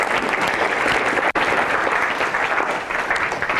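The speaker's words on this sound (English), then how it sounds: "Let's give a round of applause for these two." Dense, loud keynote audience applause, many hands clapping continuously with a brief sharp dropout near the start, then sustained to the end.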